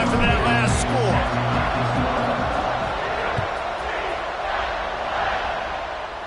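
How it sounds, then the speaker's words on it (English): Football stadium crowd at a UCF vs Tennessee game after a score, a dense steady roar that holds loud across the stretch with brief tonal bits near the start. "this crowd is buzzing after that last score."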